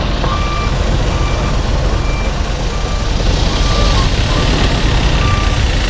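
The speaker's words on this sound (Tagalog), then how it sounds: "Oversized load, ang laki." A large oversized-load truck on the road between Donsol and Samar in the Philippines sends out repeated high reversing beeps over a loud, constant rumble of engine and road noise.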